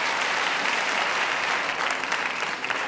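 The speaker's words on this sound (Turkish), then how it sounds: "Alkışlar mıyız?" Loud, dense applause from a 1997 Turkish television show's studio audience, a continuous roar of many clapping hands filling the whole stretch without pause or speech.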